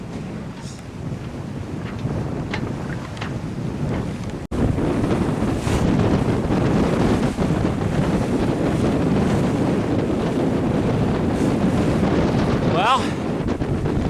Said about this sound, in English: now the wind's really kicked up